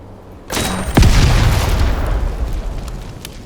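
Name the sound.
gunfire from the video game Heart of the Machine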